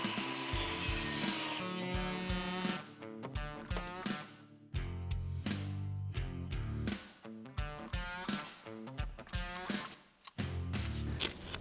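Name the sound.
cutting notches in wooden deck joists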